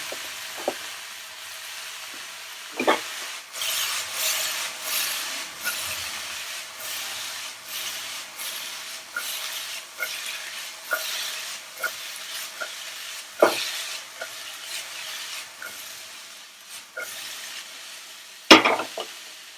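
Cabbage stir-fried into vegetable fried rice, a steady close sizzle and hiss with spatula scrapes and stirring knocks recurring every few seconds, one sharp clatter near the end, no talking.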